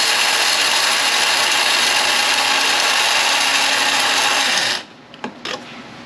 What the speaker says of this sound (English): I'm going to go ahead and put a generous amount in here, and we're going to grind this up.